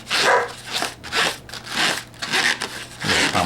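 A pet dog barks repeatedly at close range in a steady series of loud woofs, with a faint rubbery squeak of balloon twisting in the background.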